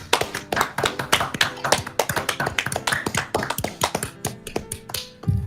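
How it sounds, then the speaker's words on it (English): A few podcast hosts clap in a quick, uneven run of sharp, close hand claps that goes on for several seconds, with hardly any talk among them. "Gotta clap for it."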